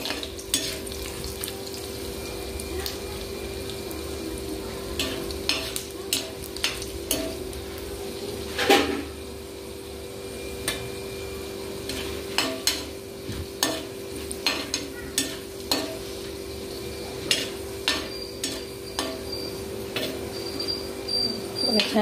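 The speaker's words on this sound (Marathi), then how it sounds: "आता खोबरं आणि डाळ एकत्रच भाजून घेणार आहे मी." Grated coconut and lentils dry-roasting together in a pan, with soft scraping stirs and light ticks of a spatula repeating steadily, faint and close over a low steady hum.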